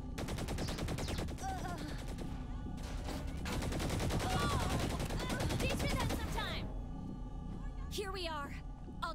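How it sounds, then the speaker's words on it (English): Submachine gun fire rattles in the video game Saints Row 3 as dense, continuous rapid bursts over loud game action and engine noise. People talk over the gunfire. "Oh, there's submachine guns now."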